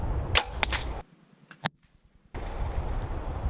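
An archery bow is released, giving a sharp snap, then a short quiet gap with a faint thud from the arrow hitting, close by and under light background noise.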